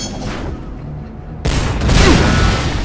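Rocket explosions in the Shadow Warrior video game: after a quieter stretch, a sudden loud blast erupts and its rumbling, crackling aftermath carries on to the end.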